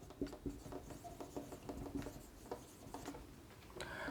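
A pen writing an equation by hand on paper, giving quick scratchy strokes and taps in an irregular rhythm, close and fairly quiet, with no voices.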